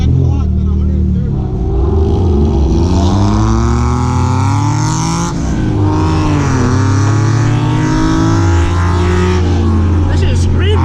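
A K24-swapped Honda Integra engine screams at high revs, a loud sustained wailing drone with rising and falling pitch as it accelerates and shifts, with voices talking over it.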